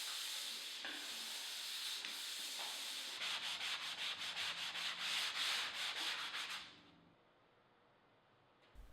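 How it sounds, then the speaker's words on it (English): Drywall joint compound being hand sanded with a manual pole sander in a basement, steady close abrasive rasping that turns into rhythmic back-and-forth strokes, then stops, leaving quiet room tone. "I used a manual pole sander"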